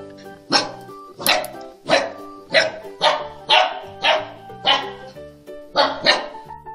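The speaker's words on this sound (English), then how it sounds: "D for dog." Eight loud dog barks at a steady, evenly spaced rhythm, close by, with no other sounds.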